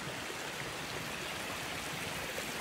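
Snowmelt creek running where a mountain hiking trail crosses it, a steady close rush and gurgle of water with no pauses, filling the scene alone.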